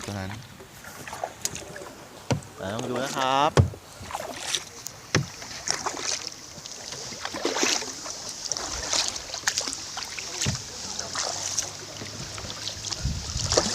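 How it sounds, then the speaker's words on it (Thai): Oars or paddles splash and knock rhythmically as a rowing boat moves across water in Okinawa, close and continuous under frequent conversation and some wind noise. "ตอนนี้เราก็กำลังล่องเรืออยู่นะครับ"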